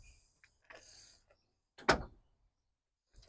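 The plastic rally-style opening side window on a Fiat Strada Abarth slides with a short sharp scraping clack, preceded by faint fumbling sounds, close and otherwise quiet.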